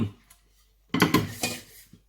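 A ladle scooping fish roe curry from a pot, with a quiet pause and then a quick cluster of close metallic scrapes and clinks against the pot.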